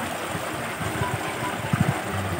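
Water spilling out of a fish pond into a river at a crab, tilapia, milkfish and prawn farm, a steady broadband rush with a few low gurgling pulses near the end, no voices.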